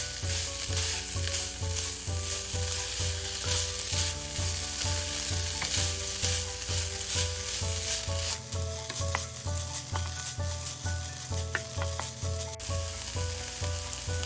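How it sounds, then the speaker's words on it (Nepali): Boiled chicken breast is stirred in a pan for chicken soup, with a continuous loud sizzle and a rhythmic scraping of the utensil through the pieces, steady and close for the whole stretch. "एकछिन 1-2 मिनट जति यसलाई यतिकै चलाउँदै पकाउने"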